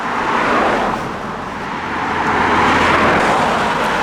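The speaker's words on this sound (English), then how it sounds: "And back to the noisy traffic again." Steady, loud roar of road traffic in Plymouth with cars rumbling past close by, swelling and easing without a break.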